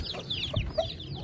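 A hen clucks a couple of short times close by amid chicks and feeding noise in a rural yard with other birds chirping.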